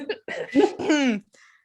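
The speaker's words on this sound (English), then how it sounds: "Everyone coughs." A person coughs and clears their throat nearby, several short close bursts in a row, followed by a fainter brief trailing sound.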